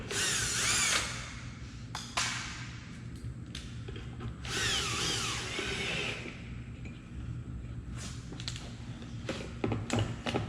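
A power drill drives screws into a door's strike plate, sounding in short repeated whirring bursts with pauses between them, close and fairly loud over a steady low background hum.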